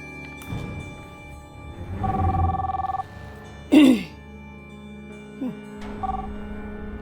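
A telephone call is placed: a dialing tone and a few electronic ring bursts sound in separate short pulses, with brief voice-like noises between them.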